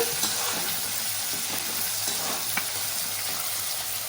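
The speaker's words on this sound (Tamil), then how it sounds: "கடலைப்பருப்பு உளுத்தம் பருப்பு சவந்தெடுத்து மே வெங்காயம் கருவேப்பிலை ஒன்றா போட்டு வதக்கணும்" Onion, curry leaves, chana dal and urad dal sautéing in oil in a pan for semiya kitchadi, a loud continuous close sizzle with faint stirring scrapes and no talk.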